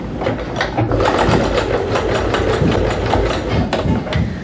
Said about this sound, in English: do a quick stitch along this side just so that you have it kind of down